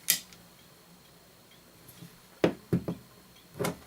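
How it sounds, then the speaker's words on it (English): A Franz FB-4 electric metronome gives sharp, close clicks, unevenly spaced: one at the start, then a quick cluster of three, and a final tick. "So let me turn it on."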